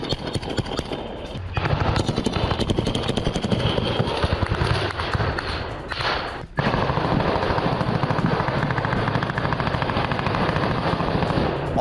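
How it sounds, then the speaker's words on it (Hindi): Machine-gun fire in Russia-Ukraine war footage from a Ukrainian ground-force assault, dense rapid bursts that run almost nonstop and loud across the whole stretch, with a short break partway through before the shooting resumes. "यूक्रेन की ग्राउंड फोर्स ने हमला किया है। गोलियों की बौछार से थर्रा उठा है"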